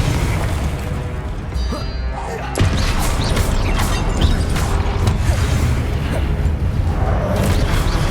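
Confringo fire-blast spell explosions in the wizarding game Hogwarts Legacy, a loud burst arriving suddenly and followed by dense, sustained crackling blasts and mechanical clatter with no pause.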